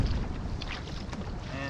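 Steady wind rushes across the microphone on open water while pedaling a 2006 Hobie Sport kayak, a continuous broadband buffeting with a faint hum underneath and no talk.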